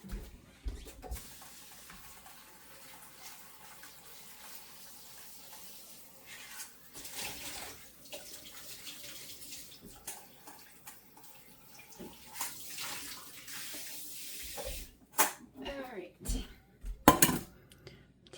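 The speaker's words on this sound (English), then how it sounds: "put them in my little dish so I can wash them" Strawberries rinsed in a small dish under a running kitchen tap: soft splashing water with light clinks of the dish, faint and uneven, growing busier and louder toward the end.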